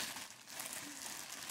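A Wootbox mystery box package is opened with a brief, soft, steady crinkling rustle of packaging close by.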